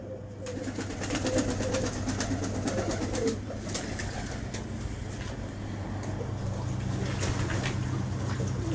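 Pigeons coo softly in a loft amid a busy wash of background noise and distant traffic, low murmuring calls repeating throughout.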